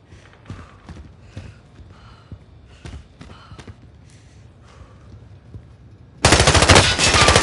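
Rapid automatic gunfire in Call of Duty Warzone comes in repeated bursts through most of the stretch, then a loud, dense, close burst near the end.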